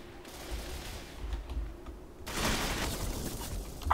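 Automatic gunfire in the shooter game Ghost Recon Phantoms on the Tomsk map, with rapid bursts of shots that build into a louder, denser barrage near the end.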